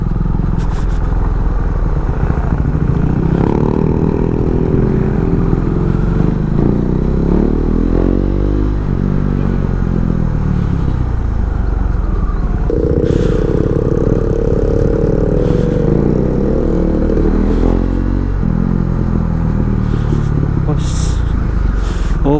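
A KTM Duke 390 naked motorcycle engine runs steadily while riding, including over bumpy road, rising and falling in pitch as it accelerates and shifts, with someone talking over it.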